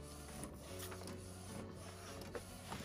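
A DTF roll printer runs steadily, giving a continuous mechanical whir with low hum and faint clicks and shuttle movements throughout.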